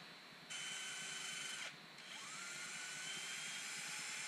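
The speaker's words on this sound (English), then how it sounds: "Just carefully sanding the little nub off there so it's smooth." A loud, steady high-pitched whir of sanding the foot of a Brazilian pepper wood bowl on a spinning lathe, pausing briefly midway before resuming with a constant abrasive hiss.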